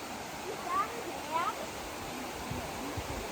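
A river flows at Tiffany Falls as a steady, broad rush of water, moderately loud, with a couple of faint high bird-like chirps above and voices nearby.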